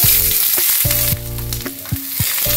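Onions hitting a generous amount of hot mustard oil, a loud crackling sizzle punctuated by sharp clanks and scrapes of a utensil against the pan, close up, with no talking.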